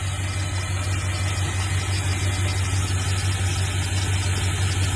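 A Dodge Dakota engine with a power steering leak and bad pressure sensor idles with a steady low drone and even mechanical hum throughout, with no talking.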